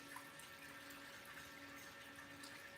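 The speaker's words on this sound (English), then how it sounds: "It's the water splishing and splashing around with the pumping action right there." Aquarium water splishing and splashing from a pump, a faint continuous churning wash with a steady underlying hum, no voices.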